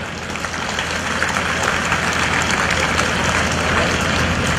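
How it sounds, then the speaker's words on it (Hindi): A large gathering claps steadily and loudly for 517 police sub-inspector cadets on the final day of their training, a dense and unbroken wash of applause from start to finish. "एक बार तकनीक से लबरेज इन सभी 517 कैडेट्स के लिए जोरदार तालियां हो जाएं"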